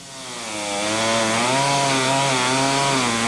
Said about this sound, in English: chainsaws can be heard as tree removal companies go about the task of cleanup